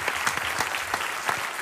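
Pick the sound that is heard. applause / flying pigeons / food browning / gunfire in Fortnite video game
applause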